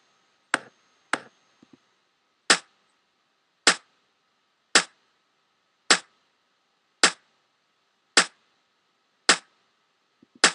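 Kick drum track played back in Logic Pro, sounding as about ten sharp, isolated thumps, two quick hits then a steady evenly spaced beat roughly once a second, clean and alone with no talk.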